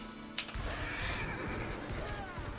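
Horse in a video game lets out a loud whinny with a sharp onset, followed by steady rushing ambience and soft clip-clop hoofbeats, while a voice talks faintly underneath.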